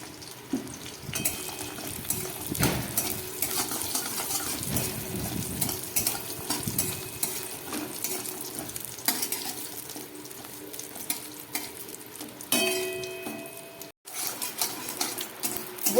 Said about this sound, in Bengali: কয়েকটা বড়ি আমি এই তেলের মধ্যেই ভেজে নিচ্ছি।